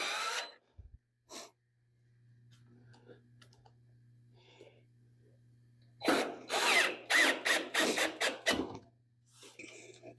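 A power drill drives screws into the panel of an LG dryer during repair, a quiet hum at first, then a close burst of rapid, stuttering whirs and clicks in quick succession.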